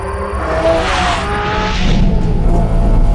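A Porsche 718 Cayman GT4 RS screams at high revs on a track, a steady loud engine howl with tires squealing near the end.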